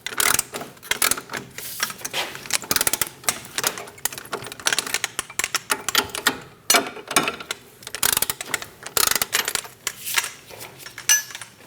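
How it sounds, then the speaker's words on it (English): A ratchet wrench snugs down front strut bolts on a 2008-2015 Scion xB, sounding as rapid bursts of sharp clicking, close and loud, in uneven runs with brief pauses between them. "We're going to snug down our strut bolts."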